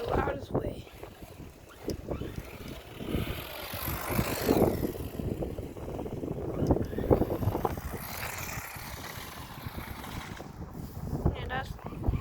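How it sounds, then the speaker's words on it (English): The two motors of a four-wheel-drive RC car run flat out with a loud, rough, buzzing roar mixed with wind buffeting, and a voice talks over it. "that's two motors being on their loudest way"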